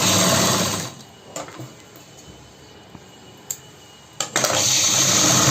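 A sewing machine stitches together pieces of a salwar in two loud whirring runs, one at the start and one at the end, separated by a quieter stretch with someone speaking and a few small clicks.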